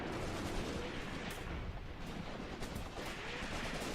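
Dense battlefield gunfire in the Graviteam Tactics war game, Operation Blau: a continuous rumble of overlapping distant shots and bursts, steady and loud throughout with no clear gaps.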